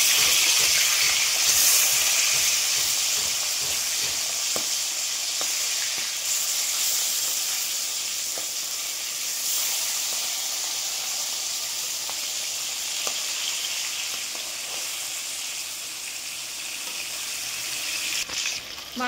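Fish pieces fry in hot oil for a Bengali fish curry, with a steady bright sizzle and hiss lasting throughout, a few faint clinks now and then, and nobody speaking.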